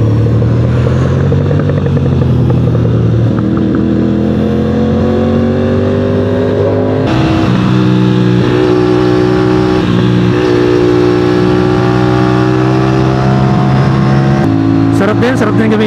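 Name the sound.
Aprilia RS457 motorcycle engine revving while riding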